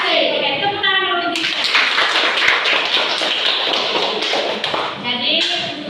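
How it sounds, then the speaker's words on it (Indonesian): A school class claps hands together in a classroom, a brisk burst of clapping that starts after a few spoken words and dies down near the end, with speech around it. "Oke, tepuk tangan dulu."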